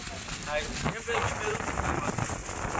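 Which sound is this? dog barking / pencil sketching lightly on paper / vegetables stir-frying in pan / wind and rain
wind and rain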